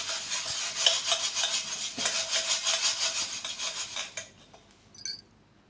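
Puffed rice (churumuri) rattles and rustles steadily as it is shaken through a sieve to remove dust, a dense clinking hiss that stops near the end, followed by one brief rustle.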